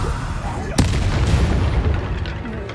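Bombarda blasting spell explosion in the Hogwarts Legacy video game, a sharp sudden boom followed by a dense rumbling wash of combat noise and low crackle.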